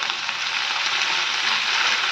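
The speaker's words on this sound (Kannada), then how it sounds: "ಸ್ಪ್ರಿಂಗ್ ಆನಿಯನ್ ಮತ್ತು ಕೊತ್ತಂಬರಿ ಸೊಪ್ಪನ್ನ ಫ್ರೈ ಮಾಡ್ಕೋಬೇಕು" Chopped spring onion and coriander leaves fry in a hot pan for lemon paneer, giving a loud, close, continuous sizzle with a bright crackling hiss that holds steady, no speech.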